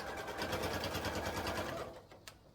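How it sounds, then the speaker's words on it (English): A sewing machine back-stitches a seam on a fabric purse, a rapid even mechanical whir with regular needle pulses that stops near the end, followed by a single click, close and quiet. "And now I am going to move it so I am actually sewing 1/4 to 3/8 of an inch. Back stitch."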